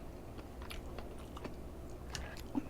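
Close, quiet chewing and biting of soft tofu from budae jjigae stew, with a few small, moist crunchy bites and no talk.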